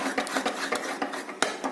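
Custard pudding mixture being whisked in a bowl, quick repeated scraping and clinking strokes against the bowl in an uneven rhythm, close and moderately loud, with no talking.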